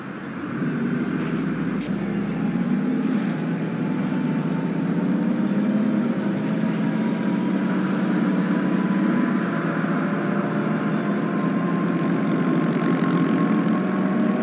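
A Solaris city bus engine in the Proton Bus Simulator game, running as a continuous steady rumble and hum for the whole stretch, fairly loud with no talk over it.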